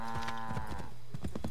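Cattle in Assassin's Creed 3 give a couple of short, drawn-out moos in close succession, followed by soft clopping and rustle from the game world, with no talk over them.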